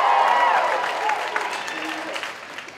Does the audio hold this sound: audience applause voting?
yes